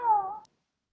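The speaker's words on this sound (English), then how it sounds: "This is cat." A single domestic cat meow, clear and close, with a slightly falling pitch lasting under half a second, followed by silence.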